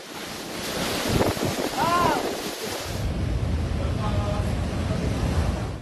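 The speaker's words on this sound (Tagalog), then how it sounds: "Kasabay ng hampas ng hangin ang lakas ng pag-ulan bunsod ng bagyong Pepito." Heavy typhoon wind roars and buffets the microphone over a constant rush of rain and water, loud and unbroken throughout, during Typhoon Pepito in the Philippines.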